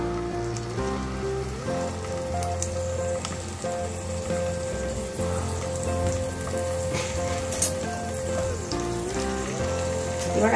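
Prawns being laid one by one into hot oil for a Bengali coconut-mustard prawn dish, giving a steady, close crackling sizzle with no talking over it.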